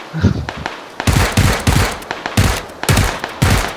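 Gunfire in the battle royale game PUBG: Battlegrounds, a loud close burst of rapid shots in several clustered volleys with brief gaps between them.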